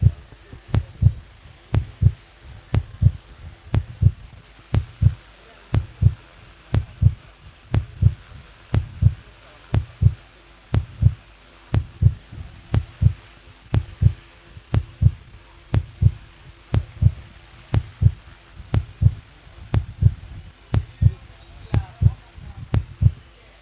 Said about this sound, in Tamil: டிஜே எதுக்கு இந்த ஹார்ட் பீட்?